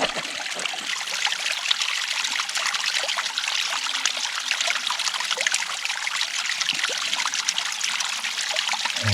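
Spring water trickles steadily from a mountainside outlet on Mount Feathertop into a bottle set beneath it, a close, continuous splashing gurgle with no voices.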